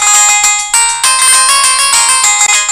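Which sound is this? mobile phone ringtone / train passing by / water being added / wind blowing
mobile phone ringtone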